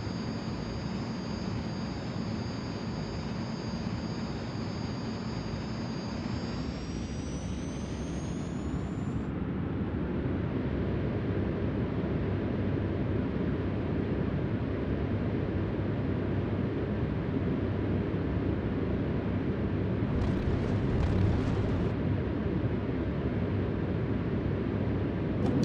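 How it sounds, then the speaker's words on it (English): A simulated airplane takes off in Microsoft Flight Simulator 2020 in VR mode, its engines a steady, loud, close roar. A high whine rises in pitch as the throttle builds, then dense engine noise continues without talk. "All right, I'm going to take off."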